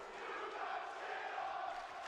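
An esports crowd at a Call of Duty League match roars in a sustained, distant wall of cheering, steady and fairly faint throughout.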